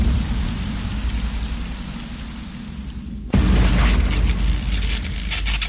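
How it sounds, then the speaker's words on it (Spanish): Steady heavy storm rain pours down, broadband and continuous, with a sudden louder burst midway as the downpour intensifies and strikes surfaces close by. "la primera tormenta apaga la llama"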